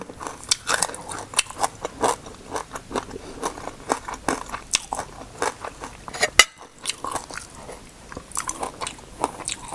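Crispy honey-salted stir-fried pork being bitten and chewed up close, a steady run of loud crunching bites with short pauses between them and no talking.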